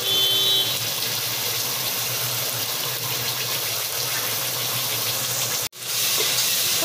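A paste of green chili, garlic, ginger and tomato fries in oil for Bengali mutton kasha, producing a loud, steady sizzling hiss that runs almost unbroken, with one sharp dropout near the end.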